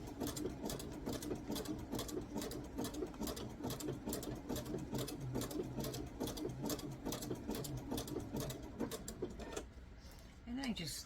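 Domestic sewing machine running steadily as it zigzag-stitches fabric, a fast even rattling chatter held for about ten seconds before slowing and stopping briefly near the end.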